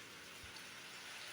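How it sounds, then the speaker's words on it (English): Steady rain falls in a village, a soft continuous hiss with no distinct drops standing out, faint and even throughout, with no voices. "We have beautiful raining right now."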